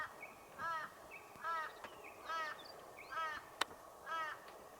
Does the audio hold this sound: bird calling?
yes